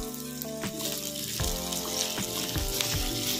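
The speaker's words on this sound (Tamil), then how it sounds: "கொஞ்சமாக கருவேப்பிலை சேர்த்து நல்லா வதக்கி விடலாங்க." Oil sizzles and crackles steadily as cinnamon, fennel seeds and curry leaves fry in a pan, the sizzle swelling louder partway through amid a few stirring scrapes.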